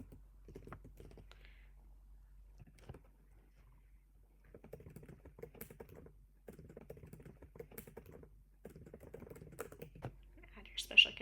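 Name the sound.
typing a comment on a computer keyboard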